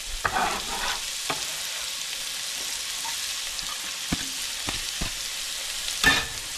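Onions fry in oil for leftover Christmas ham and green beans, with a constant medium sizzle and scattered clicks and scrapes of stirring, including a louder clatter near the end, with no talk.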